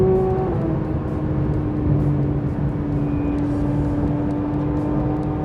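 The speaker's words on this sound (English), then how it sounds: "Now we're here in a real car, Porsche GT3" Steady, loud engine drone from inside a Porsche GT3 on a hot lap at the Long Beach circuit, holding a sustained tone with slight pitch shifts and no talking.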